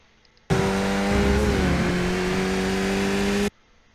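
A Skip Barber race car engine on iRacing held at full throttle, a loud steady buzzing drone with a slight pitch dip partway, starting and stopping abruptly over three seconds.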